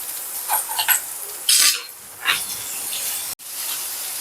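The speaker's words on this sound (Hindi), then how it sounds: "प्याज को हमें सॉफ्ट होने तक पकाना है।" Chopped onion, ginger, garlic and a green chili sizzle and hiss in hot oil, with soft bursts of spitting and a sharp crackling flare midway, faint and close.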